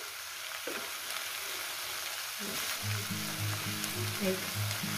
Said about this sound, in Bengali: এখন এখানে কোনো জল টল আমি কিচ্ছু দেবো না, শুধু এটা ভাজা হবে।